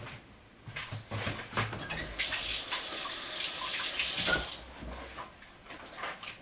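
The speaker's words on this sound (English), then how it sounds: "Let me just rinse my hands off real quick because they're pretty oily before I touch the bottles." Hands rinsed clean of olive oil under a running kitchen tap, a steady broadband rush of water with rising and falling splashes as the hands move through the stream, close by and with no talking.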